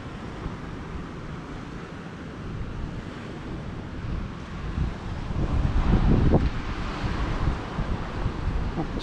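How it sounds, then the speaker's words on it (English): Wind gusting along the new coastal path at Pernera, Cyprus, a steady broadband rush near the microphone that strengthens and buffets harder in the second half, with surf-like roar beneath and no talk. "the wind's picking up, so we'll end it here"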